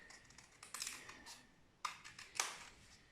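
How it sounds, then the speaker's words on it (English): Scissors snipping out paper leaf shapes, a few short crisp cuts spaced irregularly, close and faint, no talking. "You can cut it in the middle like this again."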